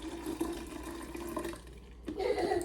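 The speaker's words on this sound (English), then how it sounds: "Now we're just gonna pour this in here." A lemon and sea moss gel mixture is poured into a container, giving a steady liquid splash and trickle for about two seconds, a brief pause, then a fuller gush near the end, close and moderately loud.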